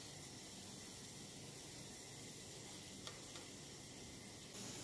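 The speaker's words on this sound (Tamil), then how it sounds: "வெள்ளைப்பாகு வந்து நல்லா கொதிச்சிட்ருக்கு இப்போது" White sugar syrup boiling in a pan, a steady close hiss and fizzing bubble texture that runs evenly throughout, with a couple of faint ticks.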